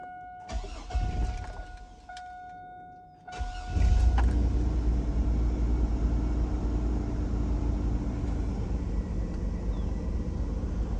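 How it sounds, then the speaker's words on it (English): A mid-to-late-1990s Chevrolet Astro AWD van chimes with its key in, cranks briefly, then fires and settles into a steady, rumbling idle close by. "let's fire this thing up so you can hear it run"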